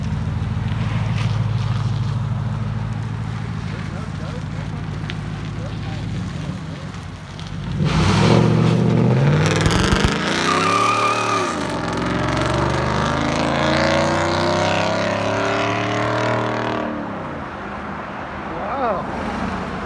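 A 2015 Ford F-150 5.0 V8 with straight-pipe dual exhaust revs hard, its rumble rising and falling through several throttle bursts, close by and over steady background noise.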